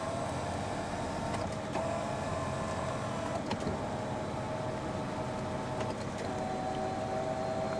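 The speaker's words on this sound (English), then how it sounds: "you also have a power telescoping steering wheel" Power telescoping steering wheel motor in a 2003 Mercedes-Benz E320, a steady electric whir heard close up inside the car, running continuously with no talk over it.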